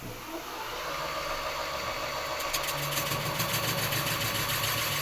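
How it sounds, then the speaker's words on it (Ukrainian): Steady, continuous whirring and grinding of a valve seat cutter on a VAZ 21083 1.5 carburettor cylinder head as a new exhaust valve seat is cut, close and loud, growing rougher and more rhythmic partway through. "Зараз приріжемо, вирізаємо нове випускне сідло."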